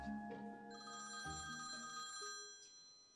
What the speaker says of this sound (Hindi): आ गया फोन आपकी बहू का।